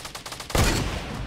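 Rapid bursts of gunfire in the video game Fortnite, a string of quick shots that swells into a loud, dense volley of automatic fire.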